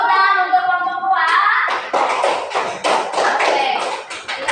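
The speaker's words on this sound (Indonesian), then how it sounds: "Oke, tepuk tangan untuk kelompok 2." Children in a classroom clap their hands together for a group, a rapid, dense burst of clapping that follows a brief raised voice and continues steadily to the end.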